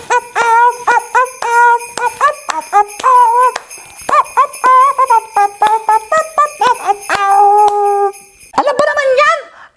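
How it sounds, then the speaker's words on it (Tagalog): A dog howls in a long run of rising and falling, tuneful wails, loud and close, with a high tinkling tone in the background and a brief yip near the end. "Sing, Doggy, sing!"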